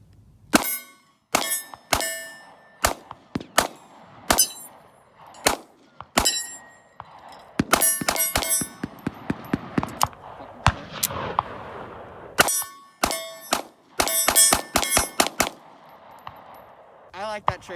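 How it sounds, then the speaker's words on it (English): Sharp pistol shots from a Smith & Wesson Bodyguard 2.0 pocket pistol, fired in quick bursts and rapid strings with short pauses between groups, close and loud, with faint ringing after some shots. "let's get our first shots in on this"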